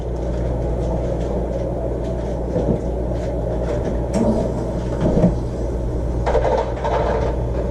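A metal pan of butter slides into a home oven, with a muffled clunk of the rack and door and a few soft knocks over a steady low kitchen hum, no voices.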